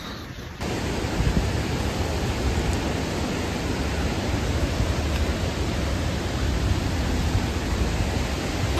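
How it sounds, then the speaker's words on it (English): A waterfall in the Daintree Rainforest of Australia pours in a loud, close, continuous roar that swells up abruptly after a quieter start and then holds steady throughout. "we're at the coolest waterfall ever"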